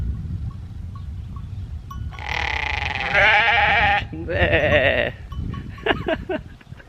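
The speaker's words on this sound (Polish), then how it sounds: "Barany." Rams in the mountains of Crete's Psiloritis Geopark give several loud, wavering bleats in close succession, some overlapping, over an outdoor background, followed by a few shorter calls.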